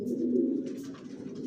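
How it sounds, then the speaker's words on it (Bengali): A Johnson-line silver racer pigeon in a loft gives a short, close, low coo that rolls on steadily for a moment. "আমার লফটে সব একই লাইনের কবুতর বলি, জনসনের লংয়ের"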